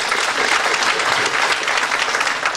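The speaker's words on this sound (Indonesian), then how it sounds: "boleh beri satu tepukan buat leader saya." Loud, dense applause from an audience at a sales motivation talk, a continuous wash of clapping that holds steady for a couple of seconds.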